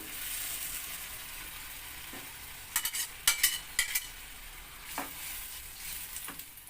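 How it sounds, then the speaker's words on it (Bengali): Fried shrimp, beans and carrots being stirred in a pan, a soft steady sizzle broken by a cluster of sharp spatula scrapes and clinks in the middle, then a few more scattered knocks. "এখন দিয়ে দিচ্ছি এর মধ্যে এই চিংড়ি বিনস আর গাজর ভাজাগুলো"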